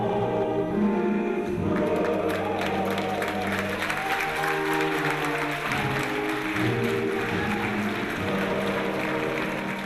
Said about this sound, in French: Une salle d'applaudissements pour dire adieu à Juliette Anzian.